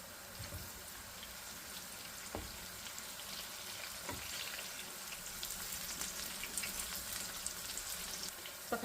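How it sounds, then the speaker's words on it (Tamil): Hot oil sizzles continuously and steadily as aubergines deep-fry, a dense hiss with occasional faint pops and crackles, no voices. "we're going to deep fry the aubergines first before making the curry"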